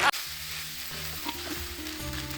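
Chowmein sizzles and fries in a hot pan while being stirred, a steady close crackle with scraping stir sounds and no talking.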